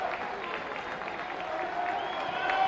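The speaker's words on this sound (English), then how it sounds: "Now here comes the crowd." A college baseball crowd at a BYU versus West Virginia game cheering and applauding in a steady, sustained roar that swells slightly toward the end, with no talk over it.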